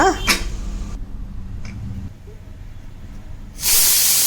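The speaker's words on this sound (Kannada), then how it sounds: "ಇವಾಗ 3 ವಿಷಲ್ ಬರ್ತಾಯಿದೆ." A pressure cooker whistles as steam releases while rasam cooks, a loud sustained hiss bursting in near the end after quieter kitchen noise.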